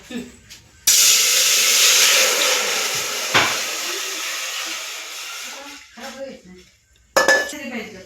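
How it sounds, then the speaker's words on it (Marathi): Water poured into a 1-litre pressure cooker for cooking moth beans for Kolhapuri misal, a loud, steady rushing pour with metallic clinks of the pot, fading and then briefly resuming near the end. "आता मटकी शिजवण्यासाठी 1 लिटर कुकरमध्ये पाणी ओतूया।"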